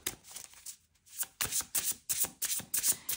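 Oracle cards drawn and handled from a deck, a series of quick papery riffles and flicks in uneven bursts, close and fairly crisp, with no talking.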